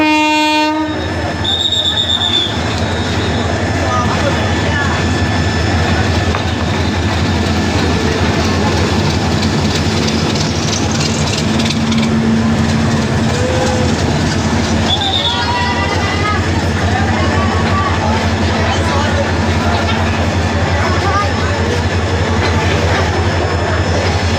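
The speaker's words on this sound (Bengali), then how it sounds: "বোঝাই করে ট্রেনটি চলে যাচ্ছে ঢাকার উদ্দেশ্যে" A passenger train departs a station bound for Dhaka, rumbling loudly and continuously, with a horn blast near the start, rhythmic wheel clatter and a murmur of crowd voices underneath.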